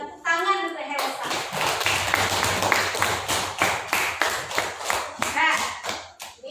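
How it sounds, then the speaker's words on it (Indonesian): Classroom applause from a group of students, a burst of dense clapping that starts after a short voice and continues steadily, loud and close, with children's voices mixed in. "Tepuk tangan untuk Elsa"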